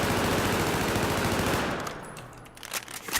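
ACWR rifle hip-fired in Battlefield 4, a fast sustained automatic burst, loud and dense, that stops about halfway through and leaves echoing tails and a few scattered shell-like clinks.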